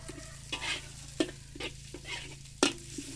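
Chicken stir-fried in hot oil with dried chili, garlic, salt and kaffir lime leaves sizzles steadily as a spatula scrapes and tosses it in bursts, with no talking.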